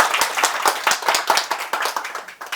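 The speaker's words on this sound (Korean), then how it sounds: "이때 박수 한번 쳐주시는 건데" Dense applause from an audience at a bookstore author lecture, many hands clapping fast and steadily at moderate volume throughout, with no voices over it.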